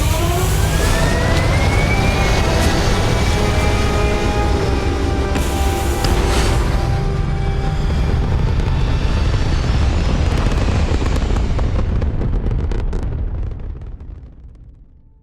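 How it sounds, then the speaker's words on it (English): Spaceship liftoff in the Starfield video game: a loud, sustained roaring rumble of engines with rising whine, holding steady before fading away at the end. "We have liftoff."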